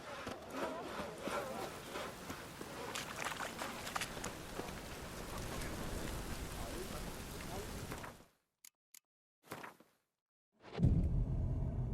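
Steady rain pours down in The Witcher 3, a dense, even hiss of drops on surfaces for about eight seconds before cutting off abruptly, followed by brief faint sounds and silence.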